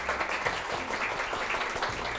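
A studio audience at a Korean lecture show applauds to welcome a humor lecturer, a continuous, moderately loud crowd of hands clapping with some individual claps standing out and no talking over it.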